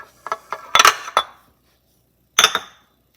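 An egg is cracked and added to snickerdoodle dough in a bowl, giving a quick cluster of sharp clinks and taps followed by a short pause and two more knocks, close and clear.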